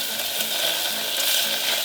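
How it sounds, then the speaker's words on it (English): Bacon sizzles and crackles steadily in a pan, a dense, continuous frying hiss close up with no voices. "When we hear it sizzling, give it a little stir and wait till it's done."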